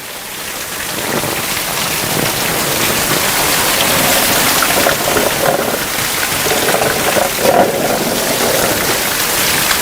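Heavy rain pours down in Hyderabad, a loud dense continuous roar of drops beating on surfaces with no letup and no voices.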